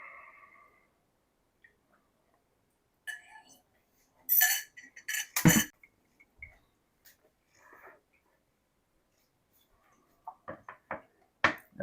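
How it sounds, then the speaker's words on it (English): Egg mixture for French toast gets whisked in a bowl, heard as scattered bursts of clinking and scraping against the bowl, with quiet gaps between and faint voice sounds at the start. "Let's take that egg mixture. Give that a good mix."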